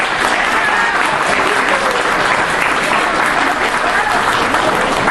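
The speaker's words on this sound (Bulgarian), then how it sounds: "Аплодисменти, дами и господа, за автора!" Crowd at a hometown reunion gathering in Sofia claps in a thick, sustained round of applause, loud and even throughout with no pause.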